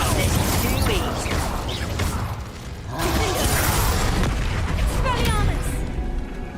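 A Confringo blasting spell from Hogwarts Legacy bursts with a deep boom and crackling debris, followed by a second swelling blast amid ongoing combat noise.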